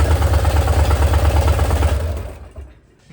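A 1966 Ford Mustang's engine runs loudly and close by just after start-up, with a steady low rumble and rapid pulsing that fades out near the end.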